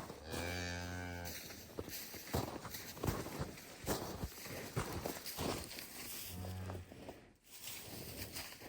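A cow mooing twice, a long low moo at the start and a shorter one later, over steady outdoor noise with footsteps or hoof clatter. It is a snowy farm setting with a cow due to calve.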